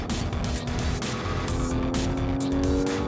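A Porsche 911 GT3 RS 4.0 drives hard on a race track, its engine note loud and close, with rising and falling pitch as it accelerates and shifts, plus some tyre noise.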